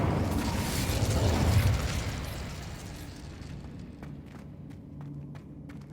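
A fiery Incendio spell erupts in Hogwarts Legacy, a loud whooshing burst of flame that swells then fades into quieter rumbling and faint footsteps.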